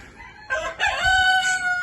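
A rooster crows nearby, a rising harmonic call with clucking chickens around it, loud and clear over quiet background.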